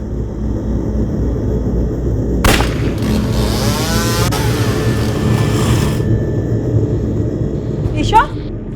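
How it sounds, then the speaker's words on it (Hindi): A motorcycle with a blown exhaust silencer speeds past, giving a sharp, loud bang followed by a roaring pass that fades away, with a brief voice near the end. "यहाँ से एक बाइक स्पीड से गई, लगता है साइलेंसर फट गया होगा उसका"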